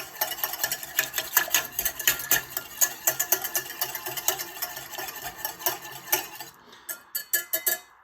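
A mixture whisked briskly in a bowl to dissolve it, with rapid, regular clicking strokes against the sides heard close, briefly pausing near the end before resuming, with no talking.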